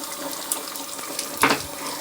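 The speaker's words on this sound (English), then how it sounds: "So wash it until water runs clear." Tap water runs steadily into a sink while makeup brushes are rinsed under it, a soft continuous hiss with a brief louder splash partway through.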